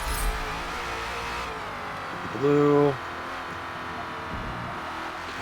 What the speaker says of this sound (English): It's not a high revving motor, but it is a torquey motor.